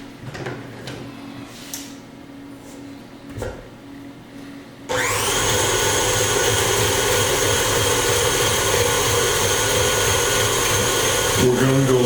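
An electric mixer creaming two sticks of butter with two cups of sugar in a large bowl switches on abruptly after a few quiet seconds, then whirs loudly and steadily with a high motor whine.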